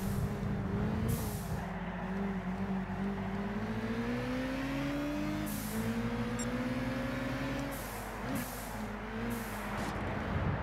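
A Lotus Elise racing at Brands Hatch in Gran Turismo 6, steady engine drone rising and falling through gear changes, with other cars around, continuous and fairly quiet.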